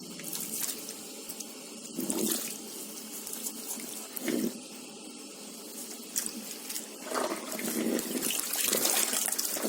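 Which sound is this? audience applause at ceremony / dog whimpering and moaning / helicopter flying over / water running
water running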